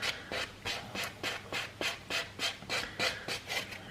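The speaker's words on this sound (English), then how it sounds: "block buffer here, and I'm just going to go over that just to remove any of those obvious lumps and bumps and nooks and crannies" A block buffer is rubbed back and forth across a nail in quick, even strokes, giving about a dozen close, rhythmic scratchy rasps in four seconds with nothing else heard.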